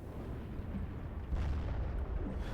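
Rumbling HE artillery shelling in the video game Steel Division 2, a continuous low roar of distant blasts swelling midway, without distinct separate booms.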